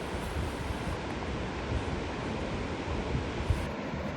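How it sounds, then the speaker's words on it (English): Surf washing onto the sand at Ogunquit Beach, Maine, a steady broadband roar with some wind buffeting the microphone and no voices. "So we finally made it to Ogunquit Beach."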